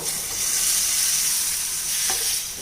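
Baby potatoes stirred into bubbling masala in a pan, with a loud, continuous sizzle and hiss and faint scraping from the stirring, heard alone.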